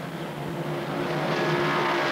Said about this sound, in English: heading for the first turn with engines roaring like cannon fire